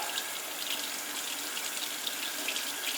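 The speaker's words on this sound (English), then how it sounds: "Take a brush, turn on my tap, and then I'm going to just start get the soap and water." Running water from a sink tap while dirty makeup brushes are being washed with soap, a steady close splashing stream lasting the whole stretch with no talk.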